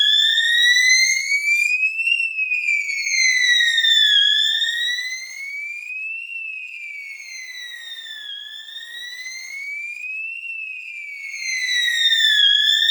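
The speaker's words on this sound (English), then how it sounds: "So now I'm sending a fire alarm." AW-D233F strobe sounder fire alarm triggered from an addressable panel, sounding a loud sweeping electronic tone that rises and falls in long repeating cycles, steady and alone.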